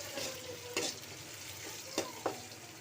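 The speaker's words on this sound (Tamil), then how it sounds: "வரமிளகாய் ஆட் பண்ணிக்கலாம்." Dried red chillies, cumin and onion frying in a pan for a greens kootu, a soft steady sizzle close by with a few sharp stirring scrapes of the spoon.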